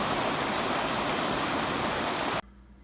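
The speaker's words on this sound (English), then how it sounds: "and I'm getting more rain." Steady overnight rain falls in a dense, even hiss that fills the scene for over two seconds before cutting off abruptly, leaving a quiet low hum.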